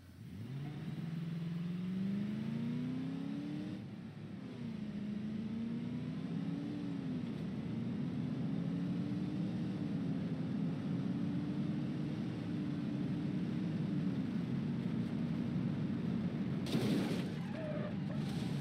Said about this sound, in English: let's watch the car crash in real time speed